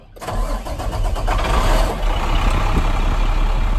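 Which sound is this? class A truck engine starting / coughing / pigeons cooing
class A truck engine starting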